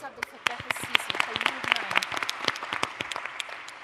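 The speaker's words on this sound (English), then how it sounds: "Please, can we put our hands together for them?" Audience at a conference on sustainable development in Africa applauds delegates, a burst of clapping that starts sharply and keeps up steadily for a few seconds, with a voice briefly audible over it.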